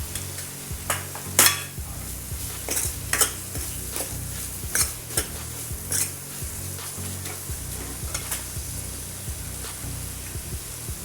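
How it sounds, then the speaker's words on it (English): A spoon stirs ragda, a cooking dried-pea curry with soft tomatoes, salt and garam masala, in a sizzling pan, with repeated scraping strokes and clinks against the pan over a steady frying hiss. "half teaspoon of garam masala, and mix it thoroughly"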